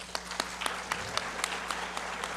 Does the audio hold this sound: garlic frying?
no